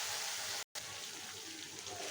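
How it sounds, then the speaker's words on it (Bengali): A little water poured into frying turmeric, salt and spices in a pan while cooking a fish curry, a brief soft splashing hiss with a short gap near the start. "মশলাটা কষিয়ে নেওয়ার জন্য সামান্য জল দেব।"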